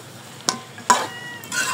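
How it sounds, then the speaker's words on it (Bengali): Country chicken and potatoes being stir-fried in a pan, with two sharp scraping stirs against the pan over a low sizzle that grows fuller toward the end. "এইভাবে আমি আরো 10 মিনিট ধরে কষিয়ে নিব"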